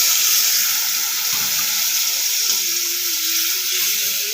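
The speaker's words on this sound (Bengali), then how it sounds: "এখন পরিমাণ মতো পানি দিয়ে দিচ্ছি।" Water poured into a sizzling pan of shing fish and papaya curry, a steady close hiss and bubbling wash of liquid lasting the whole stretch without talk.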